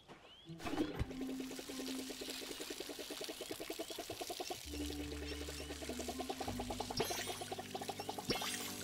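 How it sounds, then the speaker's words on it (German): Watering plants with a watering can in the farming video game Palia: a steady stream of splashing, pouring water with a soft trickle runs under a continuous game soundtrack of plucked notes and low drones. "wir müssen mal ein bisschen gießen."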